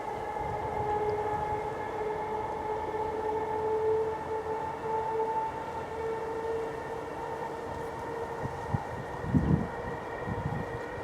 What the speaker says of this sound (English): Thameslink train crossing it.